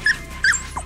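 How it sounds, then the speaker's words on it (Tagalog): A dog gives two short, high yelping barks close by, with a brief whine near the end and no talk over it. "Walang puknap sa pagkahol ang naturang aso."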